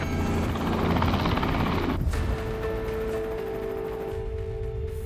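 An Auckland Rescue Helicopter Trust helicopter hovers during a winch rescue, a loud, close, steady rotor thrum and turbine roar that eases slightly partway through, with a sustained engine whine underneath.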